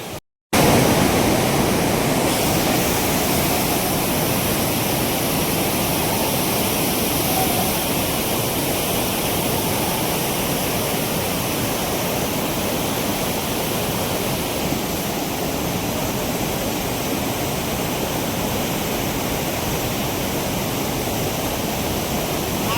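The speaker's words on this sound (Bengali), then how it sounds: "প্রচুর জল, দুর্দান্ত, জলের ফ্লো একদম অসাধারণ" A waterfall on a car trip through Keonjhar pours with heavy flow, a loud, steady broadband roar that runs unbroken from just after a brief silent start to the end, with no voices.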